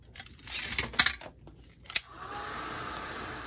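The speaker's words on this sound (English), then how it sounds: "I'm hitting this one with the dryer" A hair dryer blowing on watercolor paint on a glassine bag, switching on and running as a steady whoosh, with a couple of sharp clicks and handling noises before it.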